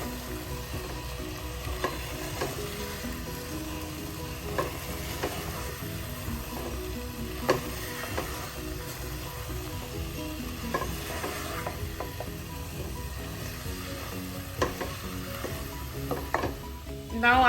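Potatoes are stirred into tomato masala in a sizzling pan for potato curry, giving a steady fry with repeated scraping and clinking strokes throughout, close and fairly loud.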